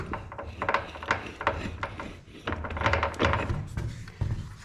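Rear wheel being worked off the axle of a jacked-up Cub Cadet RT65 rear tine tiller, a series of close dull knocks, scrapes and rubbing thuds in an irregular rhythm.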